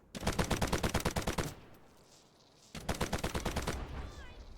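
Rapid automatic bursts from an M7 rifle in the mobile shooter game Delta Force, two loud sustained strings of shots separated by a short lull, close and punchy.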